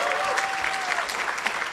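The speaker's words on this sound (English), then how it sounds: "Give yourselves another wonderful round of applause for being here." Audience at a Kwanzaa 2018 celebration at Auburn Avenue Research Library applauding steadily, a dense wash of many hands clapping close and continuous, with a faint tonal hum running through part of it.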